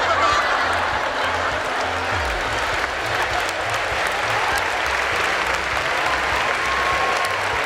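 A church audience breaks into dense, loud applause that holds steady throughout, with faint crowd voices and a brief low tone woven under the clapping.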